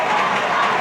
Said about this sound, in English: Crowd is getting into it now.